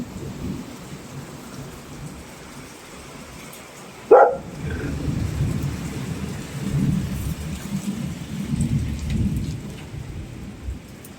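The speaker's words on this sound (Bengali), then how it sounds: "এত জোরে জোরে বৃষ্টি হচ্ছে" Heavy rain pours down in a steady, dense hiss. About four seconds in, one loud, close thunder crack breaks through, followed by a rolling rumble beneath the ongoing downpour. No voices are heard.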